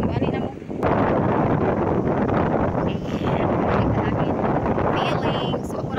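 Strong wind buffets the microphone on a crowded beach on a Sunday, a loud steady roar that runs nearly unbroken throughout, with faint bits of other sound under the gusts.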